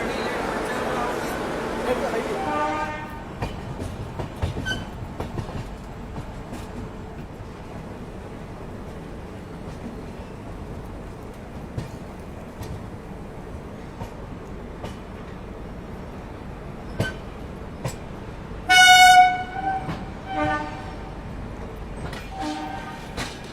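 The Howrah–Ahmedabad passenger train rolls away after departure, a low steady rumble and rattle of wheels with a brief loud horn blast near the end, while someone speaks over it.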